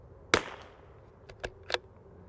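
A Tikka T1x MTR .22LR rifle fires three sharp, close cracks: one louder shot, then two more about a quarter second apart, with no talking.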